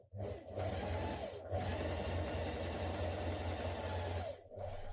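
A sewing machine stay-stitches a blouse back neckline in a continuous close whir with a low motor hum, briefly pausing near the start and again near the end.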